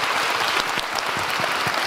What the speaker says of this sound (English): Let's give a round of applause for Alissa.